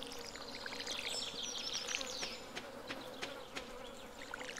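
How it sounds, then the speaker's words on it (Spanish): Flies buzz in a Stardew Valley farm scene, several faint, wavering insect drones weaving in and out over a quiet background, with brief soft clicks and no voices. "Oye, pero ¿por qué escucho moscas?"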